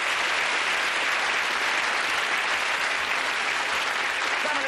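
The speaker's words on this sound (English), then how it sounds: "Round of applause for Elizabeth and Stephen there" A television studio audience at a snooker game show gives sustained, even applause, a dense wall of clapping that holds at a steady level from start to finish.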